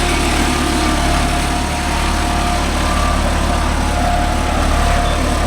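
A Deutz-Fahr 80 hp 4WD tractor engine runs steadily at close range in farmland, with a loud, constant diesel drone and no break throughout.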